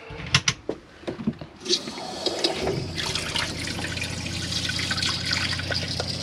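A few clicks and knocks, then water starts running from a tap in a Chausson Welcome Premium 768 motorhome and keeps flowing steadily, close and moderately loud.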